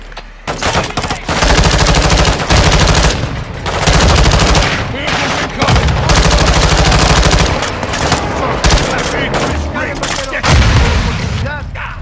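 Heavy gunfire in Call of Duty Modern Warfare 2 on PS5 lays down cover fire as loud, dense bursts of automatic shots and booming blasts, with short pauses between volleys and voices talking in between.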